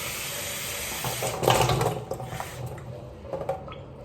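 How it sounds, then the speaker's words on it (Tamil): Water splashes and runs steadily into a pot, swelling briefly in the middle before settling into a softer trickle with a few small splashes. "ஒரு குடம் தண்ணி"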